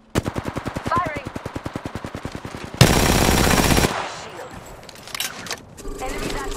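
Rapid, evenly spaced machine gun bursts in the Apex Legends video game, loud and close, followed by a dense burst of gunfire and scattered game sounds, with voice chatter audible over the action.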